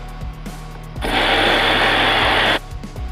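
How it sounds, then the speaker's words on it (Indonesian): A vacuum pump evacuating the refrigerant system of a Sharp refrigerator fitted with a used replacement compressor runs in a loud, even, hissing whine for about a second and a half, close by, between quieter mechanical hum. "kita akan melanjutkan untuk proses vakum ya guys ya"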